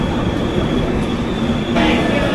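Coimbatore–Hisar AC Express at Surat station, a loud, steady rumble of rail cars rolling close by with a continuous broadband roar and a brighter rise in hiss near the end.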